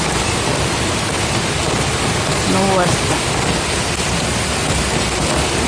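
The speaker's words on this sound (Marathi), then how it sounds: "मस्त पाऊस चालू झालेला आहे" Heavy morning rain pours steadily, a dense, even hiss filling the whole scene at close range, with a brief voice speaking over it midway.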